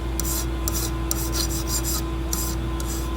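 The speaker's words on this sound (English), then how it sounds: "So let's take a file, just a single cut file." Rhythmic rasping strokes of a single cut file on metal during Kibler Woodsrunner rifle kit assembly, about a dozen steady back-and-forth passes close by, with a constant low hum underneath.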